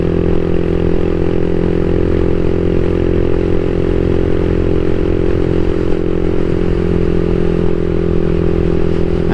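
CSC SG250 motorcycle fitted with a MotoCult Stage 4 engine, riding along with a steady, loud drone that holds constant throughout, without talk.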